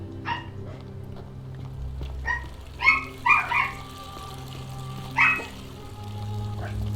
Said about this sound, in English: And my dogs are going crazy, of course.